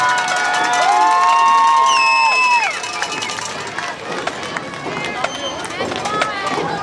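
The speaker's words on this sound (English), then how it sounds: "Let's have another round of applause for the Morristown Eaton Martini Hurricane Band" A crowd cheering for a high school marching band at a football game, with loud whistles and shouts at first, then scattered cheering and claps fading into crowd babble.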